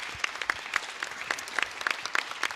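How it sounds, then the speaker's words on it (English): Steady round of applause from an audience at an innovation event, moderately loud with distinct individual claps, no talking. "yes, round of applause again."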